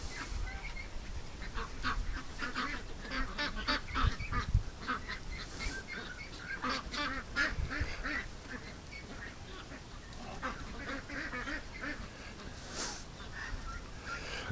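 Ducks splash and paddle in a bathtub, with soft repeated quacks and small honks scattered over steady nearby water noise, plus a few louder splashes.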